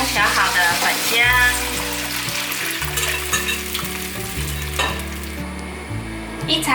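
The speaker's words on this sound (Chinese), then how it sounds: "把香菇炒香。" Shiitake mushrooms stir-fry in a wok with a loud, continuous sizzle and scraping that run beneath prominent background music throughout.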